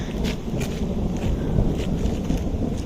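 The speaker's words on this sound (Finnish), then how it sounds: "Nyt jytisää! Joku leikki ukkosella." Thunder rumbling in a warm rainstorm, a low continuous roll under steady rain hiss and patter, with scattered sharper drips nearby.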